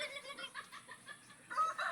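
Chickens cluck softly in a short, faint series of quick, irregular calls at some distance, recorded outdoors with banana feeding going on.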